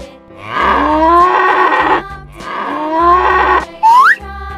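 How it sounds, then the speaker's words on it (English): A cow moos twice in a row, each a loud, close, drawn-out low call with a rising tone, the two separated by a short pause, followed by a brief springy effect. "Cow. Cow."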